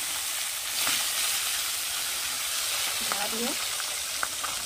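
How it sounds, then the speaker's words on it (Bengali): A fish head spits and sizzles in hot oil, a continuous close frying hiss with a couple of brief clanks and scrapes, and a short faint squeal partway through. "তেল তেতে গেছে, এই মাছের মাথা"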